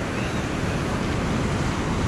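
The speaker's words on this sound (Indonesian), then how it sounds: "Lautnya masih dikategorikan bersahabat ya." Sea waves wash steadily at a beach, a dense continuous roar of surf mixed with some wind noise on the microphone, with no voices.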